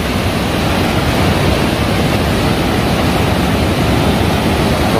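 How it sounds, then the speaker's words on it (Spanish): Sea waves washing onto a small beach shore during cast-net fishing for mullet, a loud, steady broadband roar of surf with no breaks and no voices. "aquí continuamos con la pesca en la orilla del mar, en la mera playita"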